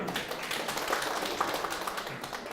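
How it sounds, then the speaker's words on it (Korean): Applause from a lecture-hall audience at a district special lecture for public officials, a dense, soft patter of many hands that stays steady and fairly distant for a couple of seconds, with no talking over it. "박수."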